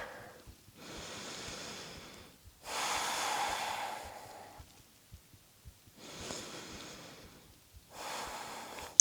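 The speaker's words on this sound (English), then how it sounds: "2 full cycles of breath here." Slow, deep breathing held in a yoga triangle pose, long airy inhales and exhales alternating with quiet gaps, about two full cycles, close and breathy with no speech.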